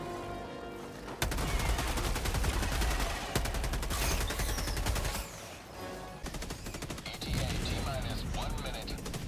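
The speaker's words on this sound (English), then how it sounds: "I'm just killing with a grenade launcher." Grenade launcher fire in the video game Helldivers 2, a loud, dense run of gunfire and blasts that starts after a brief quieter moment and carries on almost continuously, with voices talking over it.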